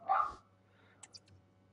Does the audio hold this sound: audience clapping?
no